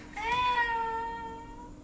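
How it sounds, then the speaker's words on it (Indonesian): A single close cat meow, drawn out and falling slightly in pitch, lasting over a second with no talk around it. "Kucing!"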